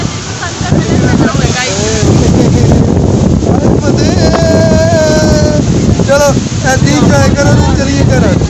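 Strong storm wind and rain at Head Marala in Sialkot: a loud, constant roar of wind buffeting the microphone, with voices talking and calling over it throughout.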